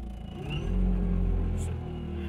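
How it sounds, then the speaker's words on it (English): 1969 Lotus Europa converted to an electric motor, spinning up in neutral: a steady low whirring hum close by that swells slightly and holds, with a faint higher whine above it and no talk. "So what you're hearing is the motor spin up in neutral"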